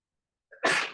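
A single sneeze rings out in a quiet lecture room, a short inhaled lead-in followed by a sharp, loud burst that fades quickly.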